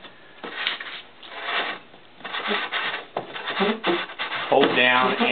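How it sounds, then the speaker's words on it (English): Wet/dry sandpaper rubs against the rim of an inverted glass canning jar, giving repeated close, rasping strokes in uneven bursts, steady and moderately loud with no talking. "You simply get some, I use wet dry sandpaper, invert the jar,"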